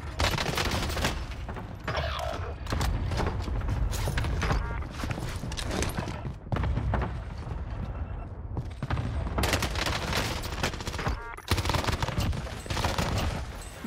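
Gunshots in Call of Duty Warzone on Rebirth Island: rapid bursts of automatic fire crack in several volleys with brief gaps between them, loud and close, mixed with clanking movement and equipment noise.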